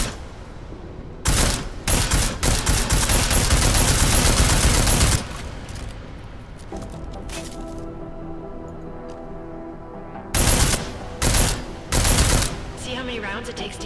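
Sustained bursts of armor-piercing gunfire in Deus Ex: Mankind Divided, a long loud volley, a lull with faint ringing tones, then several shorter close bursts, with no talking.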